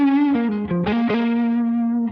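An electric guitar runs through an Olympus Overdrive pedal set to high gain with the presence turned low. It plays a dark, saturated sustained line that shifts through a few notes and rings on steadily, loud and alone.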